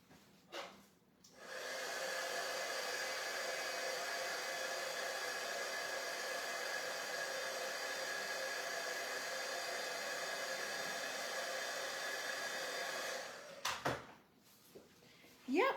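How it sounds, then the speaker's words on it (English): A heat gun runs steadily for about twelve seconds, heat embossing powder on a handmade pop-up card, a close, even blowing whoosh that starts and stops with brief handling knocks around it. "And I'm gonna try and heat emboss it."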